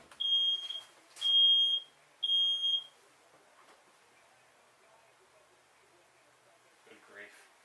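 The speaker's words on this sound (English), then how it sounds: "That would be my fire alarm, which is going off for no reason since there's no smoke in here." A home smoke alarm goes off for no reason in a kitchen, with three loud piercing beeps in quick succession. Then there is a quiet stretch and a faint rustle at the end.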